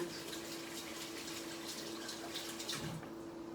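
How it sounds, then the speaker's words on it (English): Tap water runs steadily while hands are washed after salad preparation, a constant, soft splashing with a faint hum beneath it. "Wash my hands."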